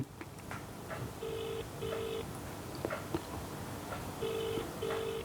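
A telephone call ringing out with no answer: two double-ring bursts, each a pair of short tones, repeating over a steady low background hiss.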